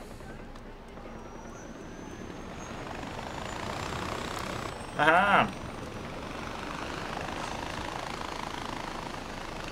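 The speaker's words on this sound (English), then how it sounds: "I'm just here for this helicopter, bro." Helicopter in the Far Cry 4 video game, set in Kyrat, a steady rotor and engine drone running throughout at moderate level, with a brief voiced exclamation midway.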